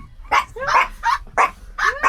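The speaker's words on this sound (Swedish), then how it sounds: "Men Alice skäller ju som fasen när man öppnar dörren." A dog barks at a door in a series of sharp, close yips and barks, about six in quick succession across two seconds.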